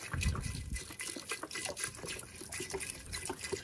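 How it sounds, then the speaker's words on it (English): Water pouring into a pot of borscht already holding beef broth, a steady gushing splash with a close trickling sound and no talk. "I will add water to it"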